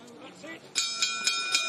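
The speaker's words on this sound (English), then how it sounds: "The bell brings the contest to an end." Boxing bell ringing at the end of a heavyweight bout at Kingdom Arena in Riyadh, four evenly spaced metallic dings over crowd and arena noise.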